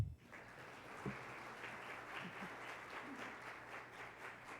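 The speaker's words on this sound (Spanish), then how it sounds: "Para todos pido un fuerte aplauso" Audience applause at a live technology panel event on artificial intelligence, a steady mass of clapping from a seated crowd that holds at an even level from start to finish.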